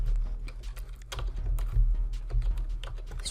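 Fast, light typing on a computer keyboard runs steadily and close up against a low background hum, with no voices.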